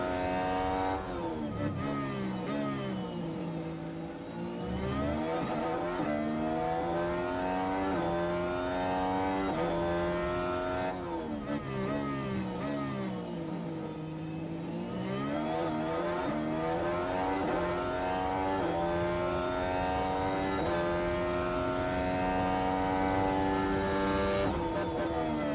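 A Ferrari-powered Formula 1 car engine in the F1 Manager 23 game, screaming loudly and continuously with repeated rising revs through gear shifts and brief dips before climbing again, close and alone.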